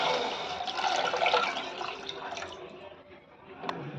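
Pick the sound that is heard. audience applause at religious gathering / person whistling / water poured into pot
water poured into pot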